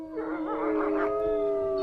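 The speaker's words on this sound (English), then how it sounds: "Every night at 9 o'clock, at 12, and at 3, all the dogs howled together." Several dogs howl together at night in a snowy northern setting, long overlapping wavering cries that swell close and loud, then hold as steady sustained tones without any talk.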